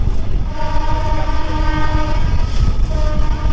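The Jahanabad Express on its Dhaka–Khulna inaugural run rumbles loudly along the track while its horn sounds a sustained, rich, multi-tone blast over the heavy rolling noise.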